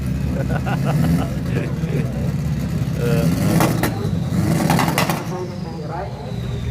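Loud cars revving at a drag day race circuit, engines roaring and rising in pitch with pops and bangs, close and continuous while someone talks over them.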